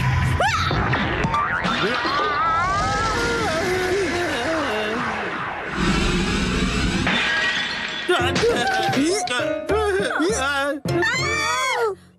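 A toilet breaks and shatters in a Hindi-dubbed Shin-chan cartoon, with a burst of crashing cartoon effects amid animated voices and music.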